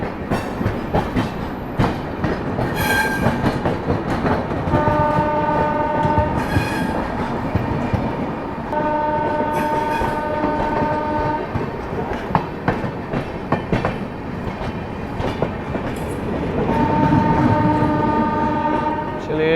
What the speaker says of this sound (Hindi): गाजियाबाद शेड का वेब 7 विक्रमशिला एक्सप्रेस अब जा रही है।